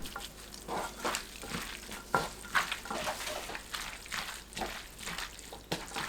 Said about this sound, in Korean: 고춧가루 한 큰술, 다진 마늘 한 큰술, 멸치젓 네 큰술, 조청 한 큰술, 들기름 한 큰술 넣고 주무릅니다.